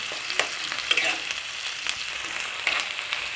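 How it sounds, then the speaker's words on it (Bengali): Garlic and green chili frying in oil in a pan make a steady hissing sizzle, broken by occasional clicks and scrapes of stirring, close and without talk. "রসুন আর কাঁচা লঙ্কাটা দিয়ে দেব। এবার ভালো করে নেড়ে নেব। এটাকে কিছুক্ষণ ভাজতে হবে।"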